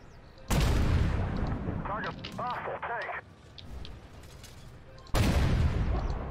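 An Altay tank's main cannon fires twice in Armored Warfare, each shot a loud, booming blast with a long rumbling tail. Someone talks in the quieter stretch between the two shots.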